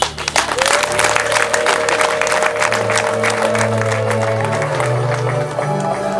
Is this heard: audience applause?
yes